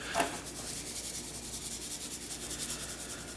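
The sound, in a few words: patting dry rub onto BBQ spare ribs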